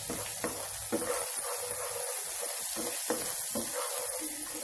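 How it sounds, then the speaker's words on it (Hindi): Ginger garlic paste sautéing in a pan, a steady close hissing sizzle broken by intermittent stirring scrapes, with no talking. "मिक्स करेंगे हम जिंजर गार्लिक पेस्ट, सिर्फ थोड़ी देर सौटे करेंगे।"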